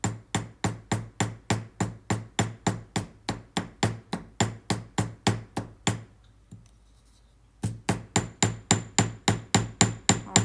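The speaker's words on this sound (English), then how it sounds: "And then I'm just gonna hammer right" Small hammer striking a metal rivet on jewelry in a fast, regular series of sharp taps, close and crisp, pausing for about two seconds before the tapping resumes at the same pace.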